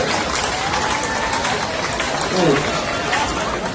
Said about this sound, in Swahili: Sasa tumpigie makofi mengi bana.